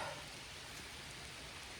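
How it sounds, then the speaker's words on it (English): Steady rain falls at a lake, a dense, even hiss of drops across the whole clip with no voices or other sounds breaking through. "I'm here at the lake in the rain"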